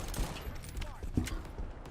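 AK rifle fire in the video game Shatterline crackles in quick bursts of shots under a lively voice-chat conversation between players.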